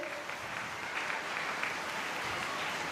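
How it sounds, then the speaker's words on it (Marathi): Audience in a hall in Kolhapur clapping together, a dense, even round of applause at a modest distance, sustained throughout without a break. "त्यांच्यासाठी पण जोरदार टाळ्या होऊन जाऊ देत"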